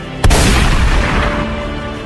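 A loud gunshot blast in a staged theatrical re-enactment of the 1945 Battle of Surabaya opens sharply, then trails into a long rumbling echo under a sustained noisy din.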